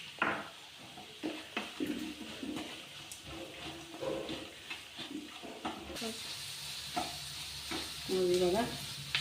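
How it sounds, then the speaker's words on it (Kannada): Seasoning for mango chitranna fries and is stirred in a pan, giving a steady sizzle broken by scraping spoon strokes and clinks, close and moderately loud throughout. "ಇದೆಲ್ಲ ಚೆನ್ನಾಗಿ ಫ್ರೈ ಮಾಡ್ಕೊಳ್ಳೋಣ."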